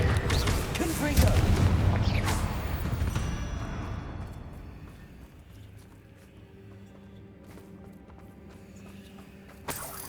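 A Confringo blast spell goes off in Hogwarts Legacy, making a heavy burst of booming explosions up front. It then fades into a quieter ambient tail with faint scattered sounds and a sharp click near the end.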